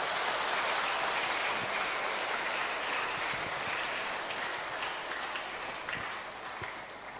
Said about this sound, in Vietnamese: một tràng pháo tay thật dài và thật lớn